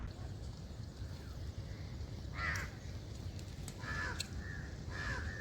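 Crows caw in a few harsh, separate bursts above a low steady river murmur beside the Barvi river on a cold misty morning, moderately distant and fairly quiet.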